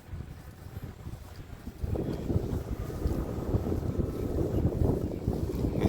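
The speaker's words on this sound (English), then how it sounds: "the wind's blowing right in my face" Steady wind buffeting across an open field while a drone flies, a rough low rumble that grows louder and gustier partway through, close to the microphone with no talk.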